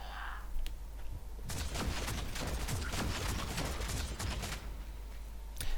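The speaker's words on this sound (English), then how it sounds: "I'll let you hear the sound assets of some of the guns firing here." Dense bursts of gunfire in the video game Warhammer 40000 Deathwatch, rapid overlapping shots forming a loud continuous barrage for several seconds, with a few isolated cracks before and after.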